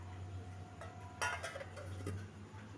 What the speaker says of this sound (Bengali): যে বউ বাসন ধুচ্ছে